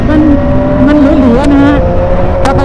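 A Triumph Street Triple 765 RS three-cylinder motorcycle leans through a winding road in Sakon Nakhon. Its engine holds a loud, steady drone with slowly shifting pitch, and rushing wind runs throughout.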